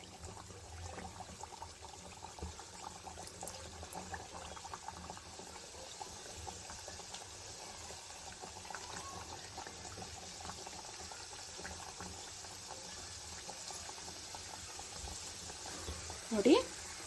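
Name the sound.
snack pieces deep-frying in hot oil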